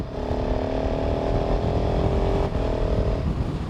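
A KTM 690 SMC R single-cylinder motorcycle pulls hard close by, its engine note rising steadily, then shifting up with a quick break before climbing again.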